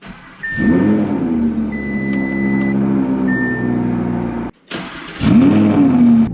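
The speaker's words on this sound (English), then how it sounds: "Let's get in the car and start it up for a cold start." Cold start of a black Audi R8 V10+ fitted with a Valvetronic F1 exhaust: a loud, close engine bark that settles into a rumbling idle, a brief cutoff, then a second sharp rev flare near the end.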